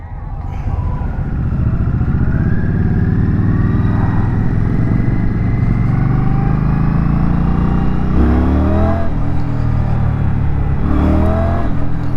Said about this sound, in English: First impressions is that bike accelerates pretty hard for only being 60 cubic inches.